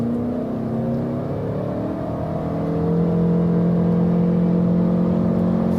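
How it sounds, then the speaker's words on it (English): A Toyota Highlander Hybrid with an eCVT accelerates hard in sports mode, its engine drone rising steadily in pitch and getting louder partway through, heard from inside the cabin with no talking. "we can also accelerate it out, show you an acceleration test."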